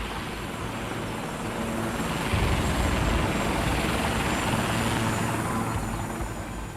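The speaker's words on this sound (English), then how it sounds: "And the chopper started circling where we'd been." Military gunship helicopter circling overhead, a loud steady rotor and engine roar that swells slightly midway and holds throughout, with no voices.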